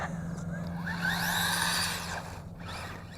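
A WLToys brushed scale RC desert buggy drives fast, its electric motor whining steadily with a rising and falling pitch as it speeds across dirt, loud and close throughout.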